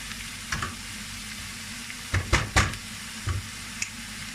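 Mushrooms sautéing in a pan for bulgur pilaf, a steady soft sizzle of frying with a few sharp stirring scrapes and clacks of a utensil against the pan, close and alone.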